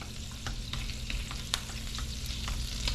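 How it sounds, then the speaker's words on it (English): Sprigs of thyme crackle and pop in hot butter and oil, a steady close sizzle with scattered sharp pops and stirring clicks throughout, no voices. "The thyme is popping,"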